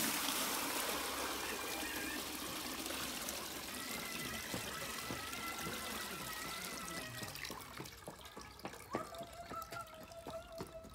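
Bloodworm and joker are rinsed in water, giving a faint trickling and sloshing that thins into scattered drips and small splashes toward the end.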